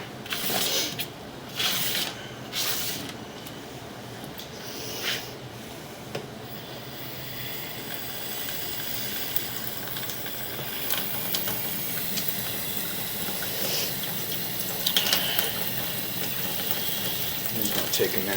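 Water running through a clay sewer line beneath a Cincinnati house, picked up down the pipe as a steady broad rushing wash, with some louder knocks and clatter early on and faint mechanical rattling throughout.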